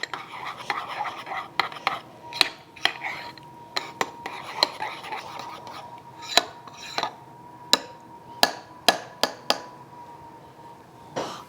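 Utensils clink and scrape against a bowl while powdered cream cheese schmears are mixed, a quick run of sharp, irregular taps and strikes at close range with no talking.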